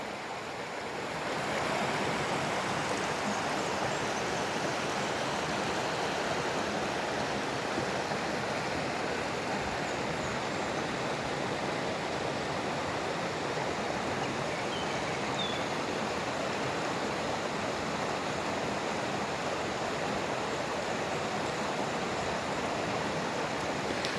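Water flows steadily in the Tapuakan river in Pugo, a soft, even rushing wash that holds constant throughout, fairly quiet and with no voices over it.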